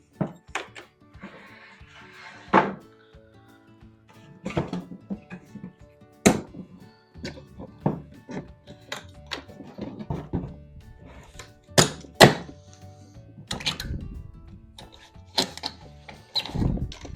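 Nails pulled from fence boards drop into a bucket, making scattered, irregular metallic thunks and clinks, some sharp and close, with quiet pauses between them.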